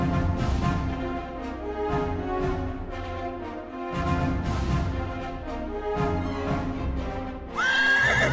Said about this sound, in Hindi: हवा में घोड़ों की हिनहिनाहट